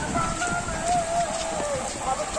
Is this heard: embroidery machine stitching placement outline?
no